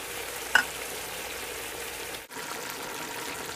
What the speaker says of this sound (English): I'm just going to keep cooking this a little while longer.